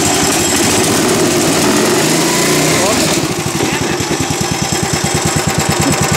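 A small go-kart engine runs with throttle held open while choked, a loud, close, buzzing drone that settles into a rapid, rough, pulsing rhythm partway through, heard alone without talk.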